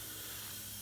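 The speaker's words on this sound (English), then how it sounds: "you just kind of spray and coat everything with the other nozzle" Coating sprayed through a direct sprayer nozzle onto a Toyota Land Cruiser 100 series, a continuous, even hiss of spray, soft and close, with no voices.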